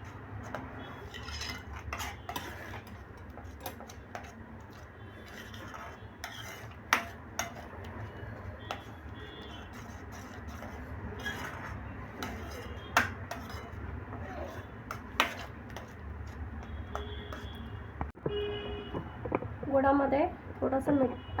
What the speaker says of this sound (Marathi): आता आपण ते मंद गॅसवर आटवून घेऊया.